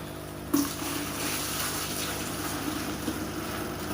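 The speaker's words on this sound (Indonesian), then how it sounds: "kalau dikira sudah cukup, kita tuangkan ke ember" Blended soy milk poured into a bucket, a sudden splash followed by a steady liquid gush and trickle, close and continuous with no talk.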